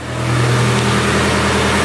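Nissan Silvia S14 engine idling, a loud steady low-pitched hum and drone heard up close, holding constant for a couple of seconds with no talking.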